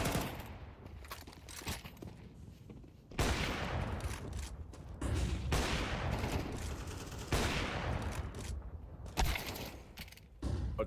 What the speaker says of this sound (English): Flashbang out from S37